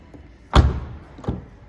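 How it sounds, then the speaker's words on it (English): A door on a 2021 Škoda Octavia Combi RS 2.0 TDI estate is opened and then shut, giving a heavy thud followed by a second, softer thump, close and clear with no talk over it. "good opening and closing sound. The doors open really wide"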